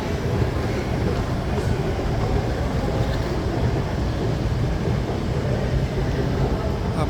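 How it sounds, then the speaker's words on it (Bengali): Busy Stockholm Central rail station in Sweden, a steady wash of crowd murmur, footsteps and train-hall rumble filling the space at constant level with no single event standing out. "সুইডেনের সেন্ট্রাল রেল স্টেশন এই যে আপনাদের সবার ভালো লাগবে।"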